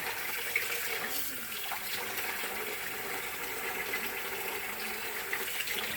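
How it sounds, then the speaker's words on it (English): Water runs steadily from a tap into a sink on a cold morning, waiting for it to turn hot, a continuous hissing splash with no pauses or voices. "I'm gonna run water till the water's hot."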